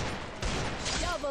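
Rapid gunfire bursts in the mobile shooter Garena Free Fire crackle over a player's excited talk during a short, busy moment of the match.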